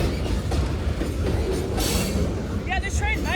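A Union Pacific freight train rolls steadily past near Livonia, Louisiana, with a loud continuous rumble of rail cars and wheels and a few brief high squeals near the end.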